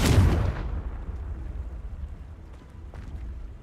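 A Confringo fire spell explodes in Hogwarts Legacy, a loud booming blast at the start that decays into a long low rumble and fading debris crackle.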